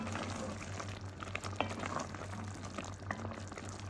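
Paella spice mix sizzles softly in a pan as it is stirred, with a low bubbling crackle and scattered scraping clicks throughout.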